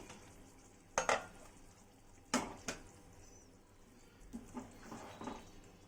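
Dum arbi, a spiced taro root curry, being spooned from a pan into a serving bowl: a few soft scraping clinks of the spoon against metal, faint and close, with quiet gaps between.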